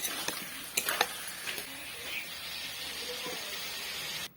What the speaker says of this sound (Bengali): ভেজে রাখা আলু দিয়ে সবগুলি ভালোভাবে মিক্স করে নেব মশলার সঙ্গে আলুগুলি